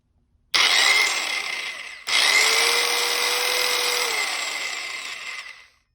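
A small SeeSii circular saw running, starting with a sharp whine, briefly slowing, then spinning back up into a steady high-pitched motor drone that winds down at the end.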